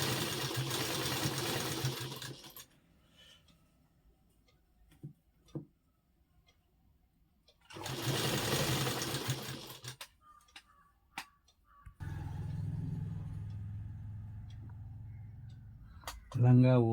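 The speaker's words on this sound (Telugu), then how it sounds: "లంగా బొందు ఈ విధంగా కుట్టుకోవాలి." Sewing machine stitching the waistband of a silk petticoat in two loud bursts of rapid whirring, then a steadier hum near the end. A person talks in the quiet gaps, with a few faint clicks.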